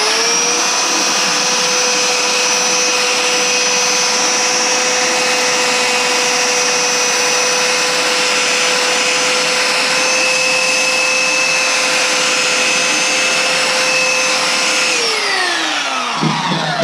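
An electric sander bevels the edge of a pre-waxed piece, a loud, steady high whine that holds evenly for about fifteen seconds before spinning down at the end.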